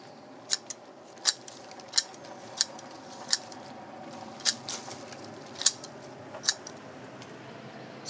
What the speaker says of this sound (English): I'm going to take some little garden shears, and I am just going to go along and prune all of these back.